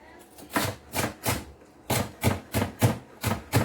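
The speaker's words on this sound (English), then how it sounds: "I'm dicing it, but in chunky way" A knife chops a bell pepper into chunks on a board for homemade pizza, striking in about nine crisp, evenly spaced thuds with brief pauses between groups.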